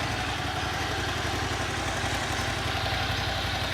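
An engine idles steadily at close range, a continuous even rumble with a faint rhythmic throb and nothing else.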